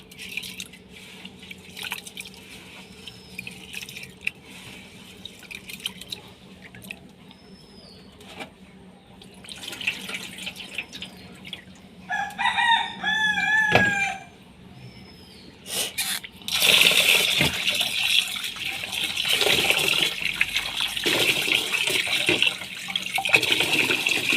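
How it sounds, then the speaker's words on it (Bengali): Rice for oil pitha being washed and swished in water, with faint drips and trickles at first, then a louder, continuous stretch of splashing and sloshing toward the end. "ভালো মতো ধুয়ে চালগুলো আমি ভিজিয়ে রাখবো প্রায় এক ঘন্টা"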